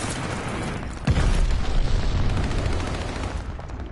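Glide bomber airstrike landing in a competitive shooter video game: a heavy boom hits about a second in, followed by sustained rumbling blasts and crackling debris, loud and dense throughout.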